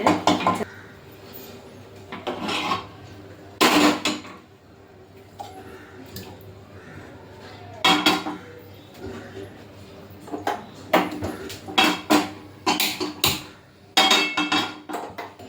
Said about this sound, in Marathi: याला आपण आता मॅशरने मॅश करून घेऊया।